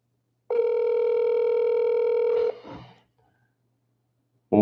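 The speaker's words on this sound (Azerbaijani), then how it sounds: "Götürmür telefonu" A single long telephone ringback tone sounds for about two seconds on an unanswered call to a deputy, then stops and is followed by a short rustle, silence, and the start of another tone.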